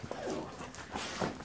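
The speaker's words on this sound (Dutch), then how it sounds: "Hallo alle lieve hondjes." Several dogs whimper and yip softly at close range in a home in the morning, a faint, excited whining over a noisy background.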